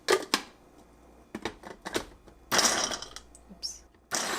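A Philips Multichopper working through one large, hard carrot, with several sharp rattling bursts of blades striking chunks, separated by quieter pauses and handling clatter, close and fairly loud with no talk.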